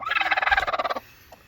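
A broody farm hen squawks in a rapid, agitated run of about a dozen loud, close clucks as her eggs are taken, then falls quiet.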